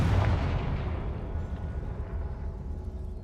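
A Confringo fire-blast spell in Hogwarts Legacy goes off with a heavy booming explosion at the start, then a low rumbling tail that slowly fades.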